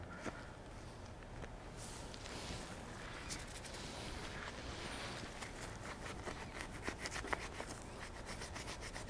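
Dried excess sealer is scraped off a Toyota engine near the cam tower and head gasket, a steady close rasping rub that continues throughout with small scratchy clicks and no talking.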